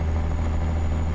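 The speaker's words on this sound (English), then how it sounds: "parked by a semi at a traffic light and it's hot out and that fan kicks on" A Peterbilt 379 semi truck engine in American Truck Simulator drones with a steady, loud, low rumble and a constant whirring hum, as when the engine cooling fan runs.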